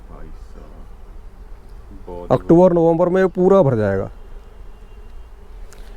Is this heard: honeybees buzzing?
yes